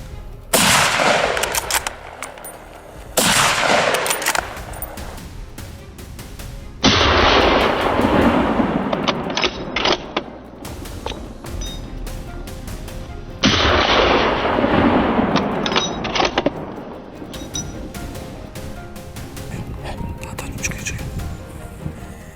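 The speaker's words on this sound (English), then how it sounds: "A series of gunshots rang out right at the location where the wild boar was active." Rapid bursts of gunfire crack out at a wild boar hunt on farmland in the US, several loud volleys separated by short gaps and ringing decays.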